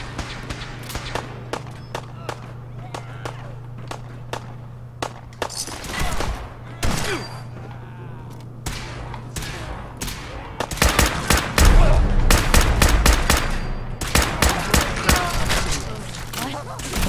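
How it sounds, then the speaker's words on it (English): Rapid gunfire from Fallout 4 during a raid on Hallucigen Labs: sharp, loud bursts of shots, first scattered, then dense volleys with thuds, while a person talks over the action. "I hear bullets."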